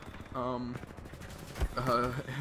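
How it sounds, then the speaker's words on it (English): The R201 assault rifle in Titanfall 2 fires two quick automatic bursts, sharp and close, interleaved with a player talking. "a lot of people use the R201 assault rifle that you see me using right here"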